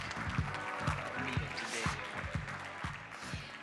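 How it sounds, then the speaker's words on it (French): Audience applause at a tech award ceremony, dense continuous clapping from a crowd with several sharp nearby claps standing out, sustained at a steady level throughout. "Bravo, on peut vous applaudir encore."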